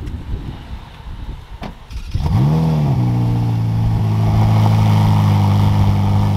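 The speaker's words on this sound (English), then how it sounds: "still the best sound to ever come from any car" A car engine roars to life after a quiet moment, then holds a loud, steady revving idle with rising and falling pitch, close by.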